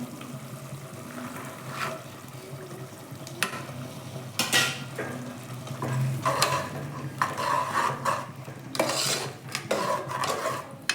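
Avarekalu beans stirred and frying in a pan, an intermittent sizzle mixed with repeated metallic scrapes and clinks of a spoon against the pan, louder bursts of stirring later on, and no speech.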